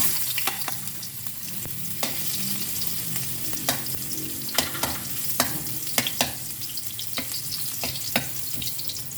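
Ginger and anchovies sautéing in a hot pan, a dense close sizzle broken by repeated scraping stirs at an irregular pace, with no one speaking.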